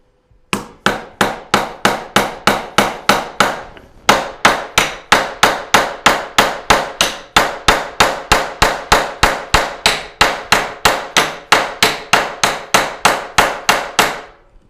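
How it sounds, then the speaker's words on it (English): Hammer driving nails into a 2x4 on a workbench: a fast, even run of sharp, loud blows, about three a second, with one brief pause before the striking resumes and carries on steadily. "we just drove one nail in"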